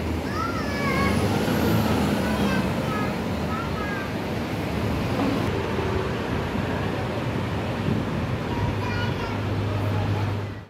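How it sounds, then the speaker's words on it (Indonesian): ALS bus number 384 pulls away from Terminal Cosari bound for Medan, its diesel engine droning loud and steady through a busy terminal, with a hiss of air brakes, surrounding traffic rumble and faint voices in the background. "Ternyata bus ALS Nopin 384 yang jalan hari ini menuju kota Medan ya teman-teman ya"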